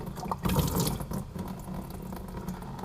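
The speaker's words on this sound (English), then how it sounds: "there's going to be some antifreeze coming out there, like that" Antifreeze drains out of a Polaris RZR 800 radiator, a steady, close, rushing liquid stream with gurgling, somewhat louder at the start, with no talking.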